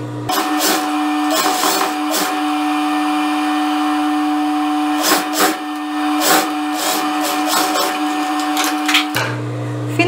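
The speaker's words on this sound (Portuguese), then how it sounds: "eu vou virar aqui a largurazinha do overlock duas vezes e passar a costura." A sewing machine stitches a double-folded overlocked hem on a blouse with an American armhole cut. It makes a loud, close, continuous whir with a steady tone, and brief rhythmic pulses and pauses break in near the start and middle.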